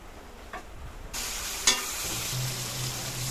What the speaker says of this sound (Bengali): দিয়ে নাড়াচাড়া করে ভেজে নিচ্ছি